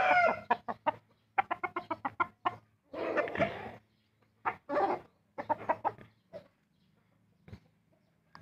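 A fighting rooster clucks and crows in a series of loud, choppy bursts with short pauses between them, close by.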